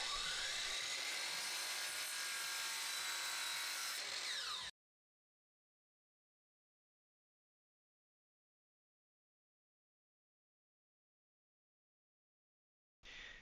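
A power saw whines through wood for about four seconds, loud and close, then silence before a brief burst returns at the end.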